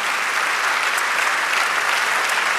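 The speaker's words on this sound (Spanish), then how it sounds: "Si lo cree, dar un aplauso al Señor." A congregation in a Spanish-language church gives a round of applause, a short burst of dense, evenly sustained clapping that fills the room with no talk over it.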